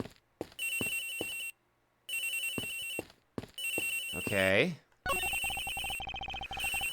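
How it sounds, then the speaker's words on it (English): Repeated electronic telephone bell rings from the Ace Attorney Investigations: Miles Edgeworth video game, sounding in several bursts separated by short pauses, with game music and interface tones and a brief spoken remark between them. "The ringing is coming from somewhere around here."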